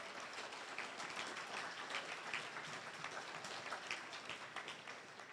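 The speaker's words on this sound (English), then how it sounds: "So let's give them a round of applause" A banquet audience at an awards ceremony gives a steady, dense round of applause, many hands clapping continuously at moderate distance with no break for the whole stretch.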